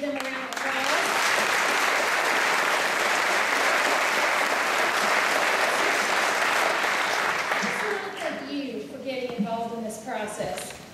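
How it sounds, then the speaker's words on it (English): An audience at a Georgia Republican US Senate candidate debate breaks into loud, sustained applause that fades after about eight seconds, with a voice speaking as it dies down. "Let's give them a round of applause."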